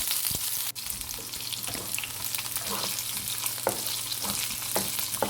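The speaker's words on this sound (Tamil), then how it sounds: "இப்போ இதை வெங்காயம் சேர்த்துட்டு லைட்டாக நம்ம வதக்கி விட்டுக்கலாம்." Sliced onion and dried red chillies sauté in a pan for tomato chutney, giving a steady close frying sizzle broken by scraping stirs and light utensil knocks, with no one talking.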